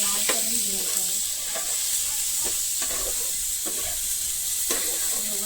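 Chopped onion fries in hot oil in a pan with a steady, close sizzle, while a spoon scrapes and stirs it in repeated strokes.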